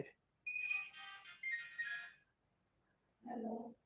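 A phone ringtone plays a short electronic melody in two bursts, close and fairly quiet in a quiet room, followed by a person speaking briefly.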